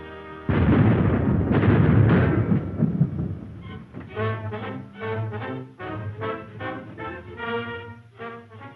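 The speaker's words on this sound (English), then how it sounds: "Stand by for broadside. Stand by! A broadside!" Naval cannon broadside in a 1936 American war drama film: a loud, sustained cannon roar with heavy overlapping booms lasting about three seconds, then a brass band or music playing under it.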